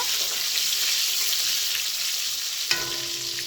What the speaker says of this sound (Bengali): প্রথমেই ভেজে নিচ্ছি আলুতে একটু নুন দিয়ে দেবো।